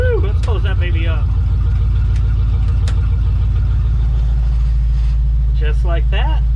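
An old workhorse pickup truck idles with its exhaust cutouts closed, a steady low engine rumble running throughout, close and loud, while people talk over it.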